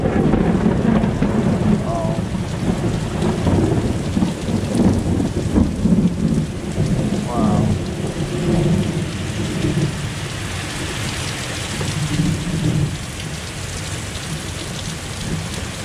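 Steady heavy rain pours down in a thunderstorm, with low rumbles of thunder rolling underneath throughout; no one speaks.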